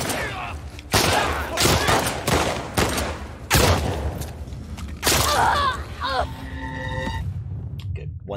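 Rapid, overlapping bursts of gunfire in The Last of Us Part 2 video game, loud and close, with shouting voices mixed in amid the shots.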